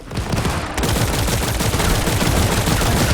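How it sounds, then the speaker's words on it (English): A scout rifle firing in the video game The First Descendant, a dense, loud, rapid string of shots continuing without pause after a brief quiet start. "Let's actually test the scout rifle."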